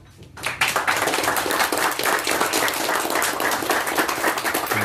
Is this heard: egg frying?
no